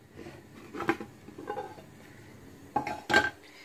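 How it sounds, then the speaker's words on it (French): A chocolate sponge cake is set back into a frying pan with a few light clinks and scrapes of metal and cookware, quiet and close, with two sharper knocks near the end and no talking. "Et je vais la remettre dans notre poêle"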